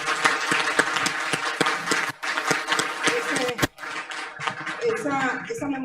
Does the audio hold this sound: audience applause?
yes